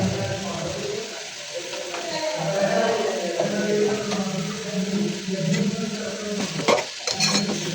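Tomato with salt and turmeric frying in a pan for a tomato-egg bhaji, with a soft sizzle and repeated spoon scrapes and clinks against the pan while a voice talks over the cooking.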